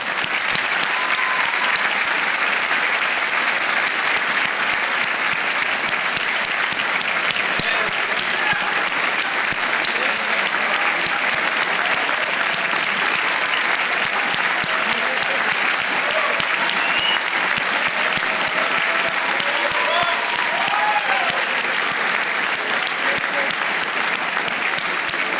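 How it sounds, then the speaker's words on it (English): Steady, sustained applause from a large audience at a 2013 Cushing Academy graduation ceremony, dense clapping filling the whole stretch at an even, loud level with no talk over it. "Please join me in applauding Jim's leadership"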